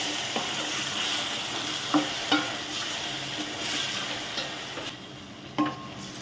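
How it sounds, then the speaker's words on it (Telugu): Ginger garlic paste, tomato and green chillies frying in a pan for chicken liver curry, with a steady sizzle broken by several sharp scrapes and taps of a spoon stirring. "పేస్ట్ చెప్పాను కదండి, అల్లం వెల్లుల్లి, ఒక టమోటా, 3 పచ్చిమిర్చి వేసేస్తున్నాను చూడండి."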